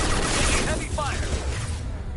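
Heavy gunfire during a Mass Effect 2 battle against Collectors, dense rattling bursts and booms in a loud continuous barrage, with a voice calling out over the fighting.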